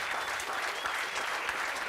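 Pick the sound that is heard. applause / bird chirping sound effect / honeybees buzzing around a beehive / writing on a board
applause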